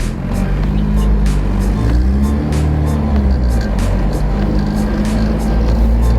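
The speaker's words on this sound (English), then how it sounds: "Car's running stupid rich, but let's drive." A twin-turbo Honda Civic, running very rich, pulls away from a stop with a loud, close engine note that drones steadily and swells as it drives off, with no voices over it.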